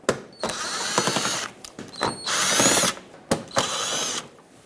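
Power drill backing out Phillips head screws from the bumper cover of a 2012-2018 Nissan Altima, several close, loud whirring bursts separated by short pauses.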